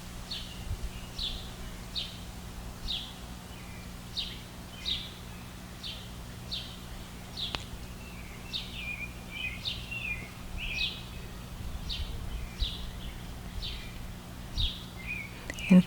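A bird sings outdoors in Kansas on a calm nature day, its short repeated chirps coming at a steady pace, moderately distant over a low background hum.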